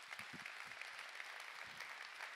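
Applause from an audience at a company evening event, faint and fairly distant, a soft continuous patter of clapping with a few low thumps beneath.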